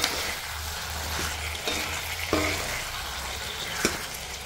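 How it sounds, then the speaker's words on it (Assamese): Potatoes with salt and spices frying in a pan, a constant close sizzle broken by a few scraping stirs of a utensil against the pan. "নিমখ দি কিনে আৰু কিছু সময় আমি এনেকৈ ফ্ৰাই কৰিম।"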